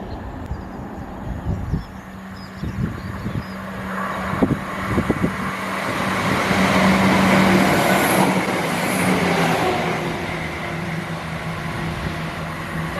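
A train heads toward Skegness through a level crossing on the Poacher Line. Faint rumble and clatter grow into a broad, steady passing roar that peaks midway, then slowly fades, heard at a distance with no talk.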